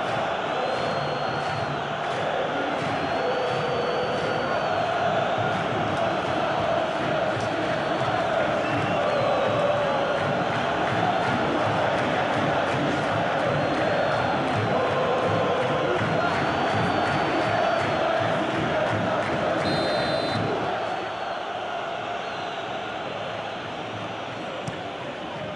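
A stadium crowd in PES 2021 keeps up a steady roar and chanting through a Vasco versus Goiás match, with a commentator talking over it and the noise easing slightly near the end.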